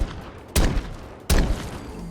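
Two heavy gunshots from a .50 GS Desert Eagle pistol mod in Fallout 4, each a loud booming blast with a short decaying tail, spaced under a second apart with quiet between.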